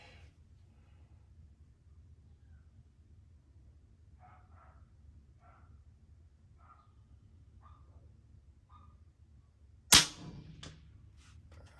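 Avenger .25 caliber air rifle fired at a 100-yard target, a single sharp close crack near the end after a long quiet stretch with faint distant bird chirps.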